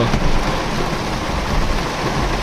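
Heavy rain pours down loudly in a continuous roaring wash, thick and unbroken throughout, flooding roads and filling ponds.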